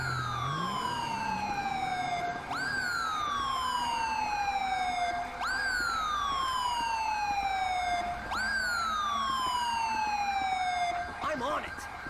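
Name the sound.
ambulance siren in video game GTA 5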